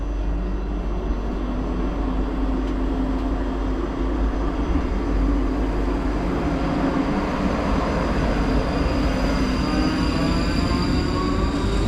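A steady low rumble of a train pulling into Edinburgh Park station, heard from inside an empty carriage, with constant wheel noise and a faint rising whine.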